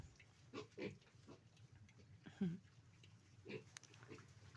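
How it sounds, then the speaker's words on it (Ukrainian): Vietnamese pot-bellied pig grunting in a pen, a few short, soft snorting grunts spaced irregularly over quiet background noise. "оця рохкає"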